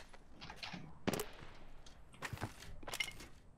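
Gunfire in the battle royale video game Apex Legends: a few sharp, loud shot bursts pop out over a busy game-sound background, spaced irregularly across the moment.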